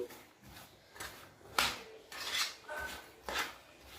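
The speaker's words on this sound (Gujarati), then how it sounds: "હવે આપણે આ કેરીની અંદર એક ટેબલસ્પૂન જેટલું મીઠું એડ કરીશું અને મીઠાને આપણે સારી રીતે મિક્સ કરી લઈશું" A spoon mixes salt into cut raw mango pieces, making repeated scraping and clinking strokes in an uneven rhythm, close up with no talking.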